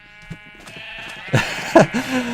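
Sheep in a Minecraft village bleat a few times, with a couple of clear, wavering calls standing out over a faint background.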